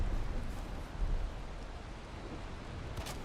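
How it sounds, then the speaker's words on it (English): Steady rain falls in the Valheim video game, a continuous soft hiss that stays at an even level throughout, with no talk over it. "I'm standing out in the frickin' rain"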